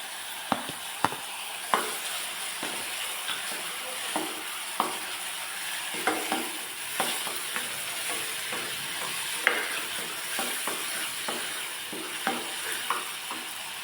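Onion, tomato, ginger and garlic fry in a hot pan for a cauliflower gravy: a steady sizzle runs throughout, broken by frequent sharp clinks and scrapes of a spoon stirring. No voices.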